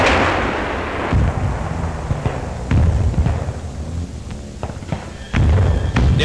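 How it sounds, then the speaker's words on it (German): A Soviet bomber, hit in a wartime air attack, explodes before striking the ground, heard as a series of heavy booming thuds and blasts over a continuous rumbling roar. "Er explodiert noch vor dem Aufschlag."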